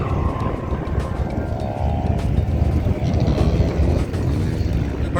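Yamaha YXZ off-road side-by-sides run across the Glamis sand dunes, giving a continuous rumbling engine roar mixed with wind rush and no clear breaks.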